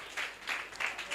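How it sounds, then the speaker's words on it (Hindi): Applause from a congregation at a Christian sermon, several short bursts of clapping that swell and fade, moderately faint and without talk. "यूसुफ के लिए तालियां बजाएं।"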